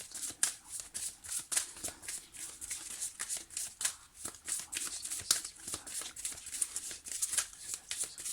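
Tarot cards are shuffled steadily in the hands, with a quick repeated riffle of crisp papery flutters and snaps close by, moderately quiet, continuing throughout without speech.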